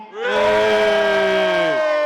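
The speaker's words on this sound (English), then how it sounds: "Cheer for Kobe." A loud crowd at a fight event roars and cheers for about two seconds, a sustained wall of voices rising quickly and holding steady throughout.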